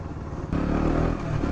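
A 2021 KTM Duke 125 motorcycle rumbles as it is ridden on the road, a low engine drone that jumps louder partway through and holds steady, with faint clatter and no speech.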